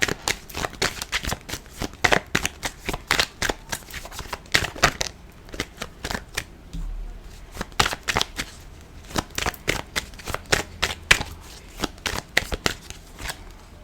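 Tarot cards are shuffled by hand at close range in a steady run of crisp, papery riffles and flicks that continue for several seconds with brief pauses, and no speech over them.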